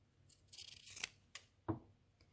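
Pinking shears snip through excess cotton mask fabric on a child's fitted mask, a few crisp, quiet cuts with a soft fabric rustle between them, close by in a still room.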